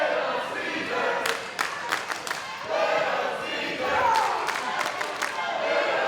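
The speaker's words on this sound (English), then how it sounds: "Crowd looking to get into the head of Papadon, chanting for his least favorite food, carbs." A pro wrestling crowd at an indoor event chants together, a dense roar of many voices swelling and pulsing in rhythm at steady loudness throughout.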